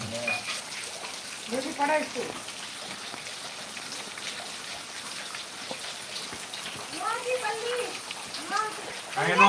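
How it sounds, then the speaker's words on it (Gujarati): Light rain falls outdoors in a hilly setting, a steady soft patter of drops spread through the whole stretch, with a few voices speaking briefly in the background. "થોડોક રહી ગયો છે મિત્રો હળવો પડી ગયો થોડોક વરસાદ"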